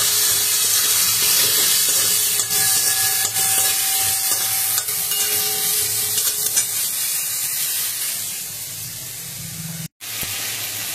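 Potatoes, sliced thin, fry in oil with a loud, dense sizzle and a few clinks and stirs, fading toward the end before a sudden brief cutoff.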